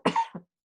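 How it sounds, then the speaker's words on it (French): One short, close cough from an adult, a sharp burst followed by a smaller second puff, then silence. "j'ai une petite toux"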